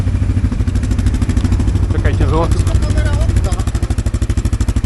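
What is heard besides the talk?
Loncin 550 XWolf quad engine revving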